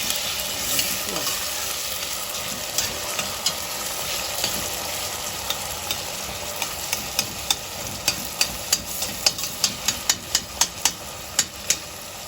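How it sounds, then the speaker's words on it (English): Vegetables for zucchini soup sautéing in a pot, a steady loud sizzle with a spoon clacking against the pot, the taps speeding into a quick rhythmic series near the end; no talk. "Let them saute a little bit and then you put it in there."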